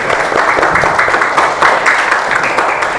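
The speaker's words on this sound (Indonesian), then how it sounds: "Tepuk tangan untuk kalian." Dense audience applause at a school counselling talk fills the clip, a continuous loud patter of many hands clapping without a break.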